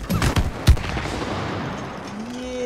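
A quick volley of gunshots fired in the co-op video game It Takes Two: three or four sharp cracks in the first second, then a rumbling tail and a faint rising tone.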